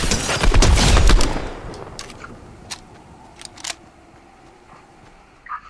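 Fortnite gunfire comes as a loud, fast volley of burst rifle shots that quickly dies away, followed by a few scattered softer clicks and pops in the game.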